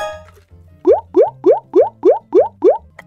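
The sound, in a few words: someone drinking water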